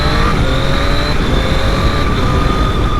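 A 2021 Triumph Daytona Moto2 765 motorcycle's engine revs steadily and loudly up close, a continuous throaty drone with a rising whine held through the whole stretch, no talking over it.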